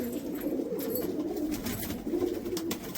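Pigeons kept by a hobbyist in America coo in a steady, continuous low murmur, close and fairly loud, with no voices over it.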